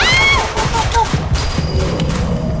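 Bursts of video game gunfire in a Roblox survival game, loud rapid volleys and thumping shots at the start that continue in sporadic cracks, with an excited voice shouting over the action.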